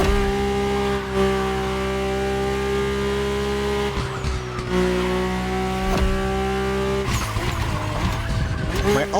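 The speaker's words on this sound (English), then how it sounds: "My ultimate appointment in this country was set with the breathtaking Mercedes AMG 1" Mercedes-AMG One hypercar in The Crew Motorfest, its engine droning steadily with short tire squeals and revving bursts, loud and close throughout with a voice talking over it.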